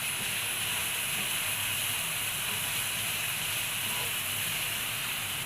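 Lemon pieces sautéed in oil over a high flame give a steady, even hiss of frying that runs unbroken throughout at moderate loudness, with no distinct stirring strokes standing out.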